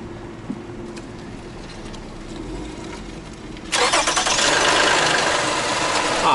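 A Lexus RX350 engine cranks and catches partway through, jumping from a quiet background to a loud, steady idle that runs close by until the end.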